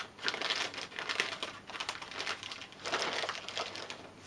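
Paper is folded and creased around a Christmas present in bursts of close, soft crinkling and rustling that come in several waves, with no voices.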